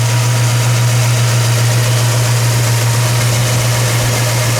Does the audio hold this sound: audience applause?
no